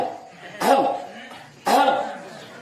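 A person clears their throat twice in quick succession, two short harsh bursts about a second apart, close and fairly loud with a quiet room tone between them.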